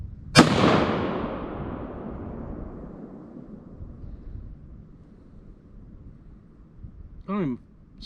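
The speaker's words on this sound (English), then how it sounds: "I'm gonna send one more." A single loud rifle shot from a Ruger 77 Ranger, a sharp crack near the start trailing into a long rolling echo across open ground, with a brief voice near the end.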